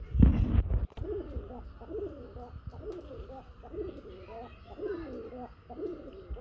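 Pigeons coo in a repeated, rhythmic series of soft low calls, fairly close. A brief loud bump opens the sequence, and faint background noise sits underneath the calls.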